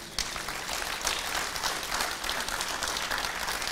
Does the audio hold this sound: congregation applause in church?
yes